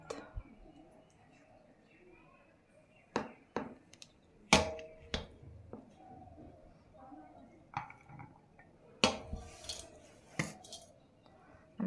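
Dishes and cutlery clinking during a home meal of fried fish, cauliflower curry and rice: sparse, sharp metallic and ceramic clinks and taps, moderately close, scattered irregularly over a quiet room with faint background voices.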